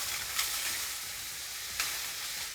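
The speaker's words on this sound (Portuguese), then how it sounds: "Eu vou refogar aqui por uns 5 minutos." Tomato, onion and garlic sautéing in oil in a pan, a steady close sizzle with two brief stirring scrapes, no talking.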